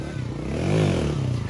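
Motorcycle engine revving hard as the rider tries to pull a wheelie, rising to a loud peak and falling back within a second or two, close by, with voices over it.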